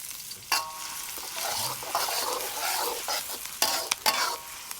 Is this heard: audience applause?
no